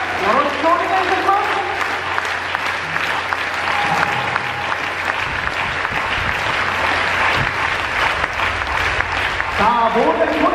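At Todoroki Stadium, a football crowd claps along steadily in a rhythmic, full-stadium wash during the pre-match kickoff ceremony for Kawasaki Frontale against Sanfrecce Hiroshima, with an announcer's voice heard at the start and end.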